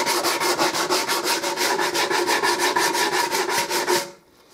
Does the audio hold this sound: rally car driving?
no